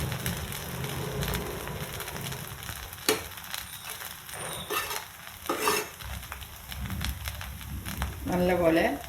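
Cooked jeera rice being gently stirred in a pot, soft scraping and occasional metal clinks of a spoon against the pot, close, with a person talking over it.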